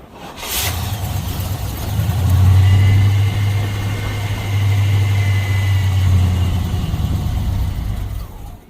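A Chevy small-block V8 in a box Chevy, with a newly replaced starter, cranks and briefly catches, giving a loud low rumbling drone that swells twice and fades, heard close with no talk.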